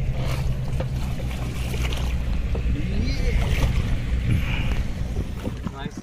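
A wooden shikara boat is rowed across Dal Lake in Srinagar, with a continuous rush of water and wind and a dense low rumble that stays fairly loud and even throughout.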